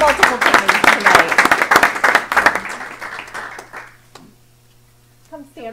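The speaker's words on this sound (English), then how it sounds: "We can clap multiple times tonight." Audience applause at a school board meeting, a burst of many hands clapping fairly close for about three seconds, fading out, followed by a near-silent pause and then brief talk.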